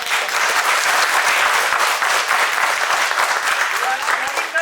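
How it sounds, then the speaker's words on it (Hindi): Loud, continuous applause fills the hall at a children's theatre festival held by a public school in Shimla, sustained as a dense wash of clapping from a large audience. "तालियों के बीच स्वागत कीजिए हमारे"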